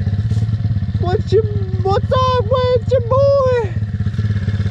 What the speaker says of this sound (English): as I let the bike warm up a little bit